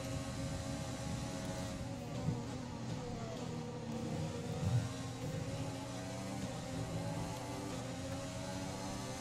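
Race car engine in F1 2020 accelerating out of a corner at the French circuit, a continuous high droning whine with shifting pitch, steady and moderately loud.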